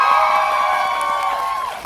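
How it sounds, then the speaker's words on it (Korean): A crowd in a cinema hall at a film talk event cheers, with sustained high-pitched shouts and whoops held over a bed of crowd noise for a couple of seconds. "축하, 박수 한번 주세요."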